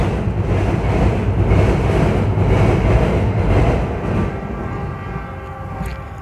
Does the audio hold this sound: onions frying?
no